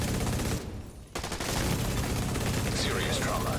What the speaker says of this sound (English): Some bad shooting.